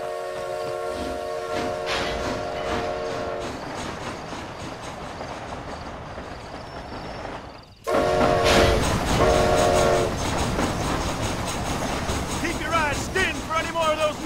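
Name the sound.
train running in video game Red Dead Redemption Undead Nightmare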